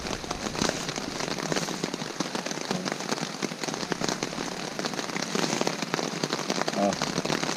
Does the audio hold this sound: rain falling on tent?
yes